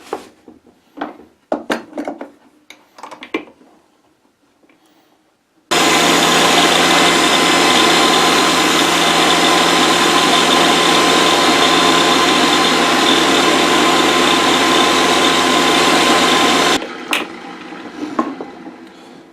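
A power saw cuts quarter-inch slots in wooden replacement-window pieces, starting abruptly with a loud, steady whine that holds for about eleven seconds and then cuts off, with clamping knocks and light handling clatter before and after.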